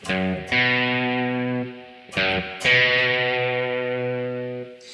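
Distorted electric guitar plays an opening riff, three loud struck chords with open strings ringing out, each sustaining and slowly decaying, heard alone without talk.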